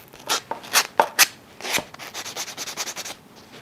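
A small sanding block rubs across a plastic tab in a quick series of scratchy strokes. Several louder, separate passes come first, then a faster, even run of softer rubs. The sound is close and there is no talking.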